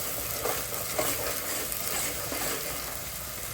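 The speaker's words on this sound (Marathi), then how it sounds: "हे परतत असतानाच यामध्ये आपण कढीपत्ता टाकतो." Curry leaves hit a hot pan of sautéing drumstick vegetable, giving a continuous bright sizzle and crackle with soft stirring scrapes, close and steady throughout.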